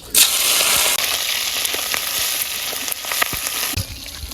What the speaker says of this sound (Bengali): কড়াইতে তেল দিয়ে দিলাম চিংড়ি মাছ দিয়ে দিলাম